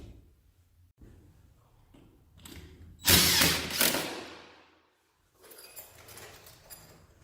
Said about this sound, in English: I usually just use the drill to mark it